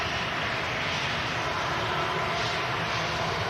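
An Aer Lingus A330 wide-body airliner lines up on the runway, its jet engines producing a continuous, even broadband roar heard from a distance, with no voices.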